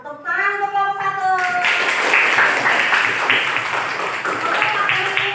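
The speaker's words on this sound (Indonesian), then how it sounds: "Tepuk tangan untuk kelompok satu" A classroom group receives applause: a steady wash of clapping from many students fills the room at a fairly loud level. A brief spoken phrase comes before it, and the clapping carries on without a break.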